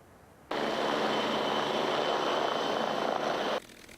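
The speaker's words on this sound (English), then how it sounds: "3 planes that flew in World War II visited the Morgantown Airport recently" World War II propeller warplanes drone overhead at Morgantown Airport, a steady loud engine roar that starts abruptly and holds for about three seconds before cutting off.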